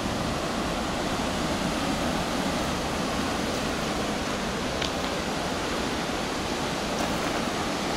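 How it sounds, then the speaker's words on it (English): Enormous waves pound a rocky, sandless beach of piled stones on a windless day, making a continuous, dense roar of surf that stays loud and steady throughout with no voices. "Yeah, I've never seen anywhere with waves this insane."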